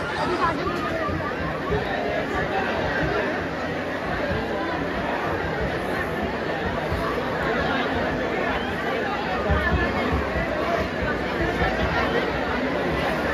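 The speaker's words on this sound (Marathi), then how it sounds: "सगळी गर्दी आहे, पूर्ण गर्दी झाली फुल" A large crowd chatters steadily at the Kalratra Utsav festival for Mata Mahakali in Bhatwadi, Ghatkopar, a dense continuous hubbub of many voices with no pause.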